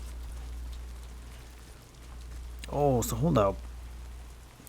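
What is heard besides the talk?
rain in video game Death Stranding 2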